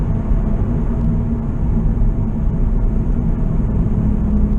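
A car fitted with a new RPM automatic transmission and a TCI torque converter, driven in cold weather, gives off a loud, steady, close engine and drivetrain rumble throughout with no talking. No distinct shift point stands out.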